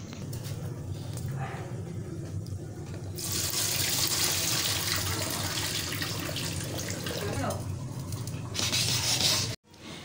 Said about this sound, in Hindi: आलू और मटर हमारे बॉईल हो गए हैं, तो अब हम इनका पानी ड्रेन कर लेंगे।